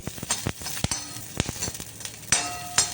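Sambar onions sauté in a pan with a constant sizzle, broken by frequent sharp scrapes and taps from stirring, close and moderately loud, without speech.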